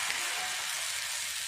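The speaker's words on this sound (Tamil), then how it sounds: "இப்போ நம்ம ரெடி பண்ணி வச்சுருக்கிற அடை மாவு எடுத்து தோசையாக சுட்டுடலாம்." Murungai keerai adai batter sizzling on an oiled dosa griddle, a steady, close, bright hiss of frying that continues without a break.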